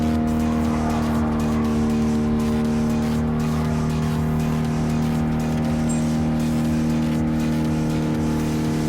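A Fiat 500F racing in the video game Gran Turismo Sport gives a steady, droning engine hum that holds at a constant pitch with continuous road noise, loud and unbroken throughout, with no talk.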